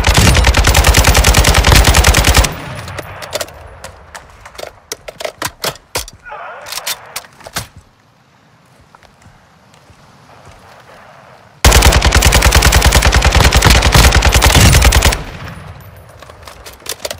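Loud, dense automatic gunfire in the video game Call of Duty Warzone DMZ, two long sustained bursts separated by scattered single shots and a quieter lull, close and dominant.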